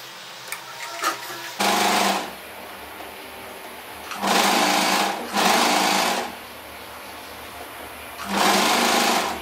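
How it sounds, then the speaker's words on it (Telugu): A sewing machine stitches a sleeve onto a dress, running in three short close bursts of rapid whirring with pauses between, after a few faint clicks at the start. "ఇక్కడ నేను జస్ట్ ఒక పిన్ పెట్టేసుకొని ఈ సెంటర్ నుంచి ఇటువైపుకి స్టిచ్ చేసుకుంటూ వచ్చేస్తున్నాను"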